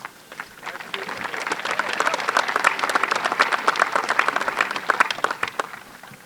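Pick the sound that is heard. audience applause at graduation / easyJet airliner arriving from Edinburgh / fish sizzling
audience applause at graduation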